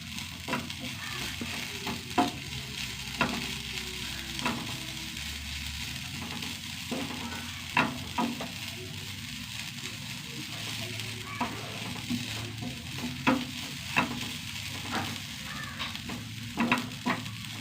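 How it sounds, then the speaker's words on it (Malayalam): Fennel seeds and spices crackle and sizzle in a pan for a long stretch, with regular clicking scrapes of a spoon stirring them, close and steady. "നന്നായി വറുത്തെടുക്കും"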